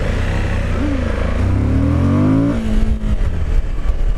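A Suzuki V-Strom 1050 motorcycle engine revving up with a rising pitch as it accelerates, then easing off into a rougher rumble and wind noise.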